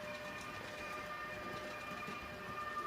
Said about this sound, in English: So this train's going to come in now